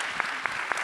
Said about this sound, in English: Stand up. Stand, please. Stand, yes. And clap for yourselves and each other.